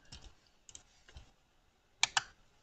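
Quiet clicks and taps on a computer keyboard, with a few scattered light keystrokes followed by two sharper clicks close together near the end, heard near and faint with no talk.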